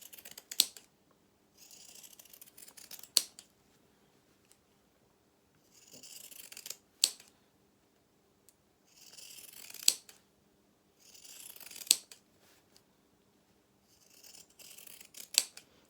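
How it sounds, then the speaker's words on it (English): Scissors snip through fabric while a sewn baby bib is trimmed, a series of about six crisp metallic cuts in short clustered bursts separated by quiet pauses, close and clear with no talking. "you are snipping to trim this back"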